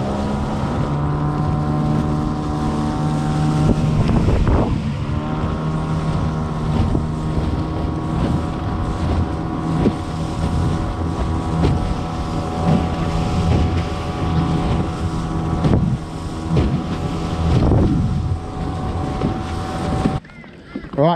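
A motorboat engine drones steadily and loudly for about twenty seconds while cruising around to chase schools of fish, its harmonic hum mixed with wind buffeting the microphone, then cuts off abruptly near the end.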